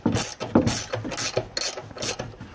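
A ratchet wrench loosens a nut up inside the fender well of a 2015-2018 Tahoe during a leveling kit install, giving quick bursts of close, rasping clicks in uneven strokes.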